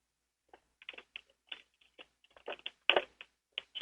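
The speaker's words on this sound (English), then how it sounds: "I can hear him moving around on the keyboard" Computer keyboard keys clatter in irregular bursts of taps and short runs, fairly close and clear, picked up over a radio call line with no talking.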